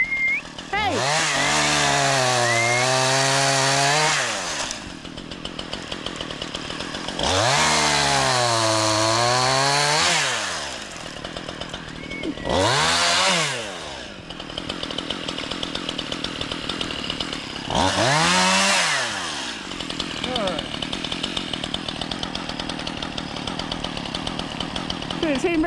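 Chainsaw cutting down overhanging tree limbs above a driveway at a home in Alaska, loud and close, revving in four long bursts that bog and rise as it bites, with short idling gaps between cuts.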